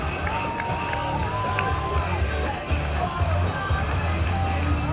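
A county fair crowd cheers, whoops and shouts steadily for a BMX trick team show, a dense continuous roar of many voices with children's shouts mixed in.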